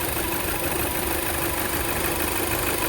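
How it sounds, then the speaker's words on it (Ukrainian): An Audi A6 C6 with the 2.0 TFSI petrol engine idles slightly unevenly, a loud, steady, broadband hum heard close up with no talking. "можете, Можеш показати, що навіть тут зараз видно по двигунові, що він працює трошки нестабільно"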